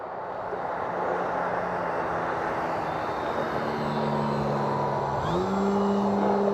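An E-Flite Extra 300 3D RC airplane drones steadily overhead in a light headwind, its motor tone holding level then shifting upward as it maneuvers, moderately loud with no talk.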